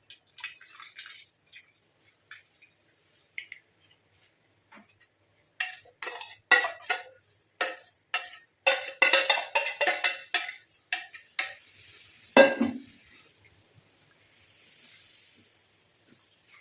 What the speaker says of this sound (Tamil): இப்போ நம்ம இந்த மாதிரி ஒரு பாத்திரத்தில் இது எல்லாத்தையும் நல்லா ஃபில்ட்ரு பண்ணிட்டு எடுத்துக்கலாம்